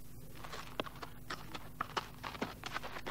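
Donkey hoofbeats in a radio play, running off as a quick, irregular clatter of clip-clops, faint and somewhat distant, over a steady background hiss.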